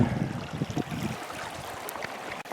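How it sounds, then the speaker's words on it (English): A small shallow creek in spring beaver-trapping country trickles and gurgles steadily, soft and close, with a few brief splashy bursts early on before settling into a quieter flow. "Here's this little creek."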